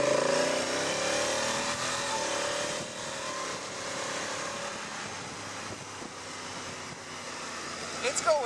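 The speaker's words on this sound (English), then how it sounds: "So here is how typical acceleration looks like." A 2017 Honda Africa Twin DCT motorcycle accelerates, its engine note climbing at first and then settling into a steady, fairly loud drone mixed with road and wind rush, with a brief rattle near the end.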